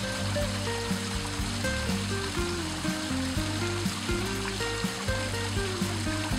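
Water from multiple lakeside waterfalls rushes in a steady, continuous roar, a constant wash of splashing with no voices.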